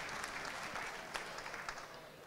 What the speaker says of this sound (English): y'all join me and give a round of applause to Blake, Scott, and the whole MEC team.